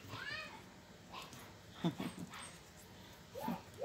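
A dog whimpers and makes short yelping sounds at close range, with soft background noise between the calls.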